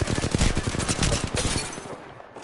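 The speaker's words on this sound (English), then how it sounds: "Shots fired at me." Rapid automatic gunfire from the video game Apex Legends: a dense, loud stream of closely spaced shots for about a second and a half, then a quieter burst and trailing decay, with no talk.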